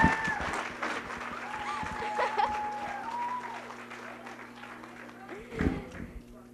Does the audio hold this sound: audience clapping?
yes